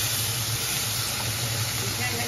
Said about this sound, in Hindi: थोड़ी देर फ्राई करेंगे।